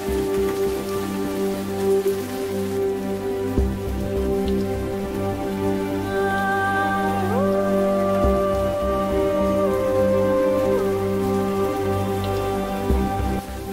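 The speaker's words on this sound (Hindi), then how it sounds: "बारिश हो रही है" Steady, continuous rain pattering on a surface, with low sustained tones humming underneath throughout.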